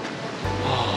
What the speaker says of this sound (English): And the water flowing, melted, the waterfall.